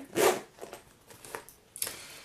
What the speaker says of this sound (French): il y a une fermeture éclair pour faciliter l'entrée du pied